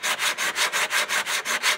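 Rhythmic back-and-forth sanding on a wooden RV door panel, about ten steady strokes with a dry, scratchy rasp, close and loud, with no voices.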